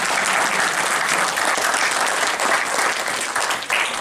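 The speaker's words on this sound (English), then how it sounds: "please give a huge round of applause for them" An audience at a Galgotias University lecture on entrepreneurship and NBFCs for MBA students bursts into loud, sustained applause, a dense wash of clapping that holds steady for several seconds.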